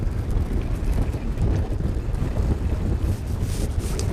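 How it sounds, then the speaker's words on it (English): Wind buffets a microphone on a boat during crappie fishing on Grand Lake, a constant loud rumbling roar with water sloshing underneath and no talk. "Oh man, come on, wind."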